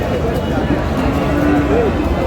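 A bull lows amid a busy cattle market in Dinajpur, Bangladesh, one drawn-out moo rising over constant crowd chatter and nearby voices of bargaining buyers and sellers.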